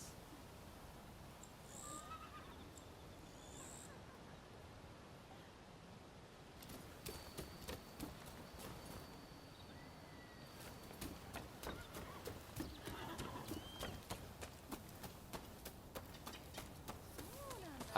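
Horses in the video game Rise of the Ronin, with soft clip-clop hoof sounds and faint snorts recurring through a quiet ambient scene and growing busier toward the end, with no clear neigh.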